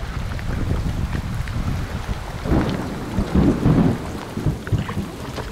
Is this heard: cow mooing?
no